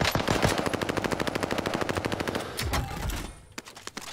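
Rapid automatic gunfire in the video game Call of Duty Modern Warfare 2019 rattles out as a fast, loud burst of evenly spaced shots, followed by a few scattered single shots and brief lower rumbling as it tapers off.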